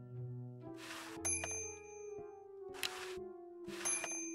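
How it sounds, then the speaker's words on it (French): Counter bell in the Day of the Tentacle video game, permanently attached to a countertop, rung three times in an even rhythm: bright metallic dings with ringing tails over a sustained game music bed, no talking. "Tiens, la sonnette."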